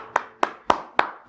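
Five evenly spaced, crisp claps ring out one at a time, close and fairly loud, like a single pair of hands applauding slowly after a magic card trick rather than a full audience.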